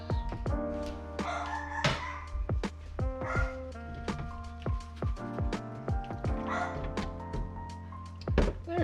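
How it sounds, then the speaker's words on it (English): A loud dog barks repeatedly in a home kitchen while pasta cooks, with sharp close barks scattered across the clip, along with rooster-like crowing and clucking from fowl nearby. "And there goes a loud dog."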